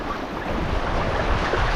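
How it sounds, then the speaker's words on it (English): Rough water on the Teklanika River in Denali National Park slaps and churns around a packraft in the rain, a loud close rush of waves mixed with wind buffeting the microphone. "Current's picking up, getting some serious waves."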